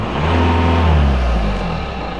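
A turbocharged car engine revs loudly up and down nearby with the hood closed, a deep throaty roar with a rising and falling pitch, turbo recirculating, no voices.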